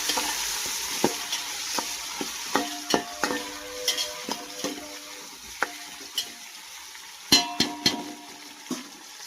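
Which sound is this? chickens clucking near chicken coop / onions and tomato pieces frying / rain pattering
onions and tomato pieces frying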